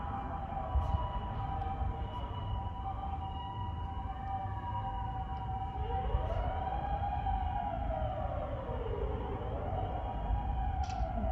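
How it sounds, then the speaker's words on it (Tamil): A wailing ambulance siren rises and falls in long sweeps, fairly distant and steady against a constant background rumble of traffic. "ஆம்புலன்ஸ் போகுது."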